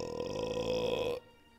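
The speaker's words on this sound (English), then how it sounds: "Good burp." A single long, loud, voiced burp rumbles steadily for about a second, then cuts off abruptly, leaving quiet background.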